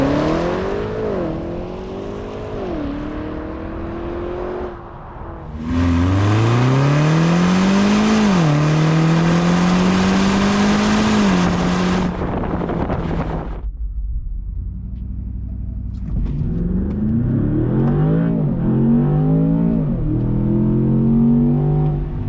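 Land Rover Defender OCTA, a 626 hp SUV, revving hard through rising gear pulls with a loud, close engine roar, shifting pitch between gears, then a brief lull before it accelerates again.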